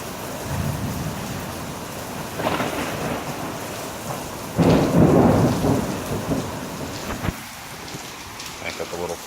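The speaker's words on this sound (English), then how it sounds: "It's just blowing, it's like blowing rain in now." A supercell thunderstorm with blowing rain and hail batters the area, giving a dense, steady roar with heavy rumbling thunder that swells midway. It is close and loud throughout, with faint voices now and then.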